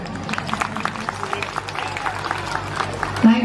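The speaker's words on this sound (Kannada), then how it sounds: "ಆ ಮಕ್ಳಿಗೆಲ್ಲರಿಗೂ ನನ್ನ ಕಡೆಯಿಂದ ಒಂದ್ಸತಿ ಜೋರು ಚಪ್ಪಾಳೆ." An audience at a school annual day function applauding for the children, a dense wash of clapping heard close and continuous under a speaking voice.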